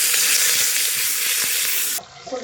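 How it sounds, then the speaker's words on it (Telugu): Hot water is poured into a pan of cooked dal, giving a loud, continuous rushing hiss that cuts off abruptly after about two seconds, followed by a softer bubbling sizzle. "పప్పులోకి ఇప్పుడు వేడి వాటర్ యాడ్ చేసుకుంటున్నా."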